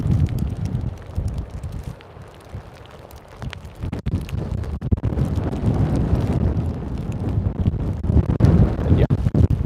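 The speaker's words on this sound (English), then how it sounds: "as you might hear, it's very windy at the moment" Strong wind buffets an outdoor spot near Gjógv in the Faroe Islands, roaring in uneven gusts with heavy rumbling microphone noise, easing briefly before surging again loudly toward the end.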